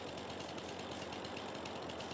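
A chainsaw cutting trees in the Farming Simulator 22 video game, a steady, rough mechanical drone with a rapid pulsing texture that holds at an even, moderate level throughout.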